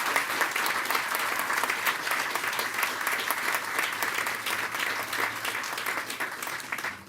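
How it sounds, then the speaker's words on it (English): A crowd at the James Widener Ray Homes grand opening gives John and Lee Middleton a big round of applause, dense continuous clapping that holds steady for about seven seconds before tapering off. "Can we please give John and Lee Middleton a big round of applause?"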